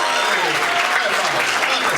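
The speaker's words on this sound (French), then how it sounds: "Bravo, applaudissez-vous." A comedy-club audience at a stand-up show applauds in a dense, continuous wash of clapping that stays loud and even throughout.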